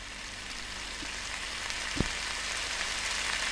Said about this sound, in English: Sausage will be cooked now.